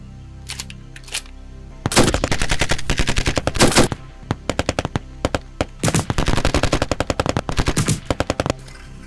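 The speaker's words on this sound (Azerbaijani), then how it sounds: "Ara, deyirəm bəlkə bir-iki güllə ataq." Machine gun fire comes in several loud, close bursts of rapid shots with short pauses between them, and the longer bursts stretch over a second or more.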